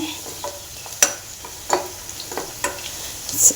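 Onions fry toward golden brown in a pan for a bitter gourd palya, a steady sizzle with several crisp spatula clacks and scrapes at irregular intervals, close and with no talking.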